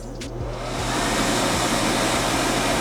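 A budget AIKE automatic home hand dryer starts up and runs with a loud, steady blowing roar and a low motor hum, alone without talk.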